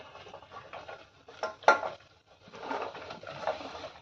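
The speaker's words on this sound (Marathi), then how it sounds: "त्याच्यामध्ये ही कापलेली भाजी घालायची" Chopped vegetables drop into a pan and are stirred with a utensil, producing a few sharp clinks and a scraping clatter, then softer shuffling stirs, close and quiet with no talk.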